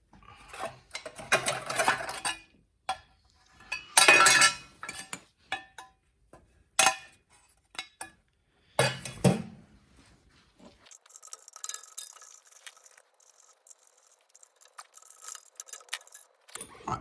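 Four bolts are undone from the tin cover of a Harrington 110v rail generator that won't start: intermittent metallic ratcheting and clinking in uneven bursts, close up, then quieter tinkering.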